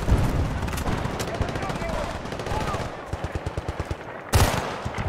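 Automatic gunfire in Battlefield Bad Company 2 during a cold war mission in the Himalayan mountains, a dense stream of loud shots with a rapid burst of distinct rounds near the end, with faint talk underneath.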